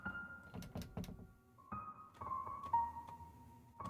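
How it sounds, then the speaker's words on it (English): Several hollow knocks on a door in the horror game Habromania, sounding in short clustered thuds with pauses between them over a quiet tonal background. "Knock."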